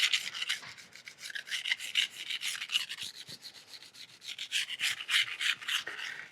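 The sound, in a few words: kitchen knife being sharpened on coarse grit whetstone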